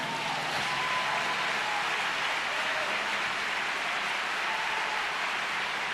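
A church congregation applauds together, a dense, steady wash of clapping that stays loud and even from start to finish without any voices on top.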